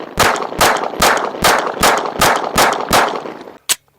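Nine rapid, loud, close 9mm shots from a Canik Prime pistol firing hollow-point rounds into ballistic gel, evenly spaced; the final shot comes after a brief pause.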